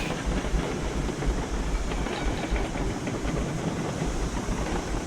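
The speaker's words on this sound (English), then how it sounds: "Just kind of letting the locomotives get pushed by the weight of the wagons" Locomotives pushed along by the weight of their wagons in the train game Railroads Online, a continuous low rumbling roll with rhythmic clunks from the wheels over the rails, steady and fairly loud throughout.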